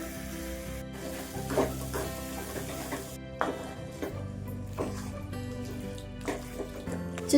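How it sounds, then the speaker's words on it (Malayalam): Chicken pieces sizzle in a pan with roasted masala for a Kerala-style varutharacha curry, a steady frying hiss broken by occasional stirring scrapes and clatters. "ഇനി ചിക്കൻ ഇട്ട് കൊടുക്കാം."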